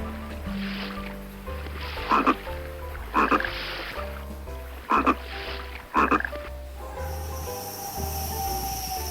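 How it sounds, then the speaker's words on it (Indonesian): Frog croaking in a natural setting: four loud, raspy croaks spaced roughly a second apart, standing out over a steady low hum and background noise, with no speech. "Katak di sini"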